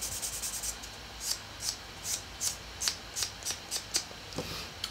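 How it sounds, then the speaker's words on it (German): A nail buffer rubbed back and forth over a gel nail, about a dozen quiet, close, rhythmic scratchy strokes, alone without talk. "Und dann gehe ich nochmal mit einem Buffer drüber."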